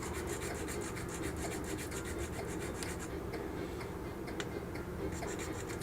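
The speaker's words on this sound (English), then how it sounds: "I'm going to shave this down, flatten out this carb mount" A plastic carb mount on a Revell Ford D-100 model kit is shaved down, making a steady close rasping, rubbing scrape with a quick repetitive rhythm that continues without pause.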